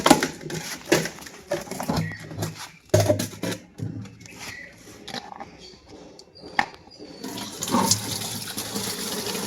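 Water running from a tap into bottles at a public water filling point, a steady rushing pour with clatter and bursts of nearby talk, swelling louder toward the end.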